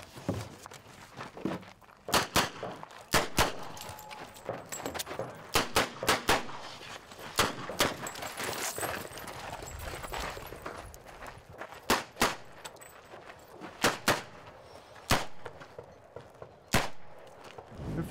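Gunshots fired during a stage of a competitive shooting event, a series of sharp, loud reports in uneven bursts and singles spread across the stretch, with steady background noise between them.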